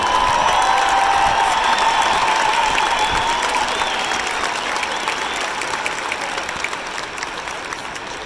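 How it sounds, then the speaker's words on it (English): A stadium crowd applauds Oklahoma Sooners football players at a senior day pregame presentation, with dense, steady clapping filling the whole stretch and fading slightly toward the end, without speech. "Ladies and gentlemen, let's hear it for Caleb Kelly and Brandon Miller."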